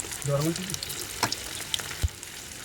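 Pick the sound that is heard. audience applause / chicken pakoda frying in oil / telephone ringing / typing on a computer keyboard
chicken pakoda frying in oil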